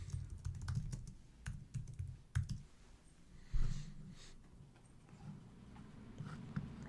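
Computer keyboard typing sounds as quick bursts of soft clicking keystrokes, close and fairly quiet, with brief pauses between runs and no talking.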